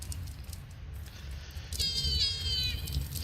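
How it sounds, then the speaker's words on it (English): A cat stuck somewhere in the video game Enshrouded meows once, a clear drawn-out cry rising out of a quiet low background hum partway through. "Got to rescue a cat that got stuck."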